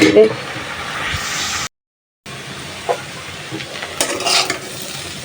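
Bitter gourd and small potatoes frying in a pan with oil, a steady sizzle with stirring scrapes, briefly cut out midway, while a voice talks over it.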